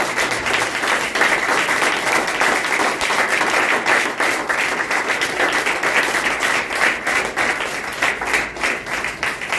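A congregation applauds during a Sunday worship service, dense sustained clapping from many hands filling the room for nearly ten seconds without a break.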